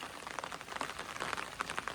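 Monsoon rain falls steadily on a traditional Konkan farm, a soft, continuous hiss with dense pattering drops, fairly faint and without any voices.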